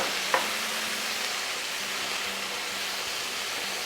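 Tinned tomatoes hit a hot pan of zucchini with a brief splat, followed by a steady, even sizzle and hiss of cooking that continues without talk.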